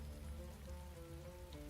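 Steady rain pattering on a surface in a fantasy tabletop game scene, a dense continuous hiss with low rumble, faint and unbroken.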